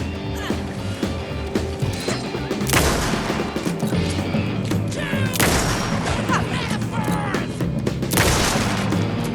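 Gunfire in Alan Wake 2 on Nightmare difficulty: several heavy, booming shots crack out a few seconds apart over a rumbling game soundscape, with a voice heard briefly.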